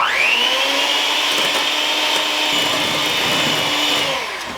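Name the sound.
electric mixer whipping fresh cream into chantilly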